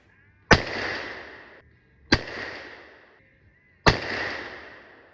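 Three rifle shots firing 330 grain Powerbelt ELR bullets at a shooting range, each a sharp loud crack followed by a long decaying echo, spaced well apart with silence between.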